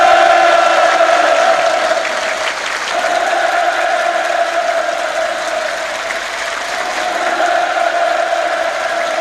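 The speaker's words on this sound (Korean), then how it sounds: "공연이 끝나자 또다시 열광의 환호가 터져 올랐습니다." An audience in Pyongyang cheers and applauds after a performance at the inter-Korean summit, a loud, sustained wash of clapping and crowd noise throughout.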